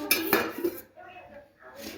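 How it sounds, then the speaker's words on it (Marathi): A kadai is set down on a stove to heat, giving a couple of sharp metallic clanks and clinks up close, followed by quieter handling noise. "इथे आपण आता कढई गरम करायला ठेवूया"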